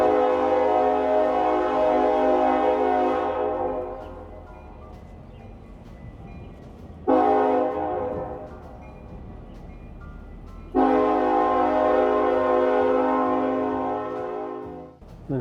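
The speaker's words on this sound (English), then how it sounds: "And there goes the trains blazing." Three long blasts of a train horn in Collierville, Tennessee, loud and sustained with gaps between them, over the low rumble of a passing train.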